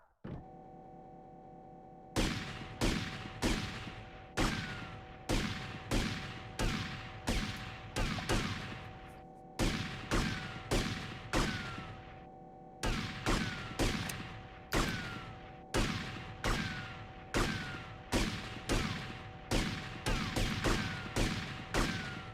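Gunfire in a video game comes as a long series of loud, evenly spaced shots, each a sharp crack with a short decaying tail, over a steady low hum, pausing briefly once midway.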